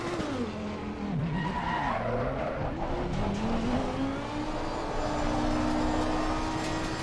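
A race car lapping in Assetto Corsa Competizione, its engine note rising and falling through gear changes with tire squeal, loud and continuous with no talk.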